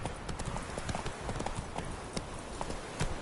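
Hooves of Roach, the horse in The Witcher video game, clip-clop in a quick, steady galloping rhythm, close and continuous throughout.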